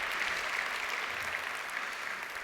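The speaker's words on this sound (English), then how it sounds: "I'll take all the applause as I can get" An audience applauds at an opening storytelling session, a steady, dense wash of clapping that holds at an even level throughout with no voices over it.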